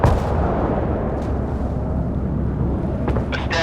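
Warship weapons firing in the naval video game Force of Warships aboard the Russian cruiser Pyotr Velikiy, a dense rumbling barrage of booming blasts with sharper bursts near the end.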